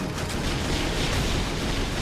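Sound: explosions in a video game

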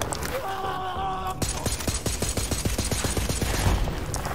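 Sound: gunfire from a gun in the video game Borderlands 3

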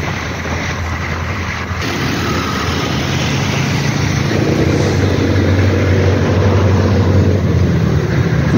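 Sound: hybrid electric car driving on 2000W BLDC hub motor

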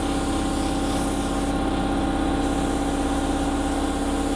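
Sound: airbrush air compressor kicking in

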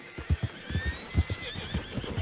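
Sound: horses neighing in the Red Dead Redemption II video game

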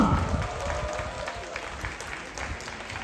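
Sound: audience applause at a bullfighting contest

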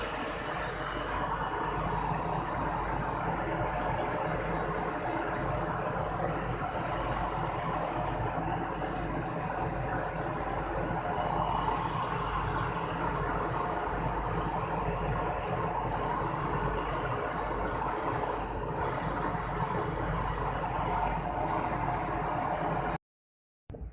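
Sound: textile sliver machine running

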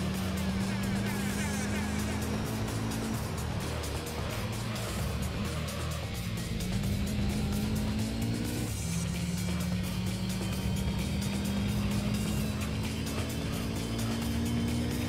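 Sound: car engine revving in Gran Turismo 3 video game

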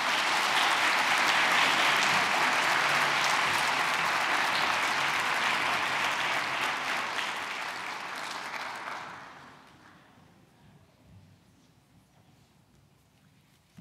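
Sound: audience applause after speech

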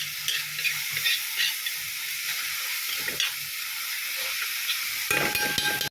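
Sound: frying onion, ginger and garlic in ghee

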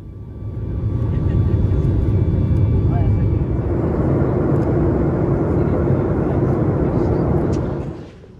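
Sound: airplane taking off

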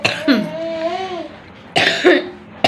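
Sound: cough

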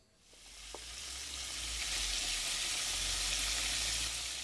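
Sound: breaded fish frying in a pan

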